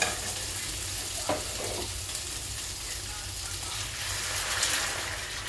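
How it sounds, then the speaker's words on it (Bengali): Hot water added to spice paste frying in a pan for a fish curry gives a dense, steady sizzling hiss with soft stirring, close and continuous, without speech. "এবার আমি একটু গরম জল দিয়ে দিচ্ছি"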